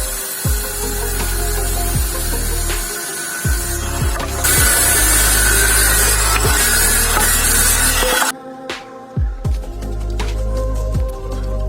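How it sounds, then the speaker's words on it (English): A power saw cuts wooden boards for a DIY computer desk in repeated loud bursts with short pauses between them, the whine rising and falling as each cut runs through the wood. "Next, measuring the dimensions and cutting the boards."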